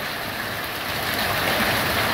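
Hailstones about 2 cm across pour down in a violent storm, drumming on a metal roofing sheet near vineyards; a dense, steady broadband roar that swells slightly louder midway, with no talk.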